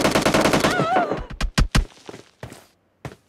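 Shotgun blasts in PUBG Mobile on the Livik map: several loud, punchy shots in quick succession after a stretch of dense game noise, then a couple of sparser thuds and a final distant shot.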